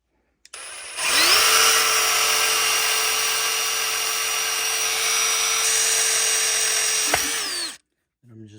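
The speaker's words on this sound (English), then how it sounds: "we're going to use a small bit and we're going to drill" A power drill with a small bit bores a pilot hole through metal, a steady loud whine that spins up, holds for about six seconds and winds down, with no talk over it.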